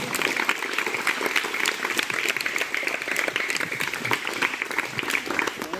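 Schoolchildren in grades 3 to 7 applaud to welcome a yoga teacher on World Yoga Day at a residential school, a lively, uneven burst of many small hands clapping, loud and sustained, with faint voices mixed in.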